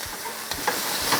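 Onions and red pepper sizzling in a pan under a brief stir, a steady close hiss with a couple of soft scraping knocks, no voices over it.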